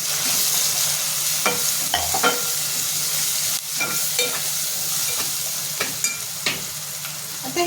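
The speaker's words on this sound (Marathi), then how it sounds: "एक चमचा हळद गोडा मसाला आणि दोन चमचा मसाला टाकले तर हे आपल्याला छान परतून घ्यायचे आहेत" Turmeric and goda masala spices are sautéed in hot oil in a pan, a continuous close sizzle broken by repeated clinks and scrapes of a spoon stirring, with no voices.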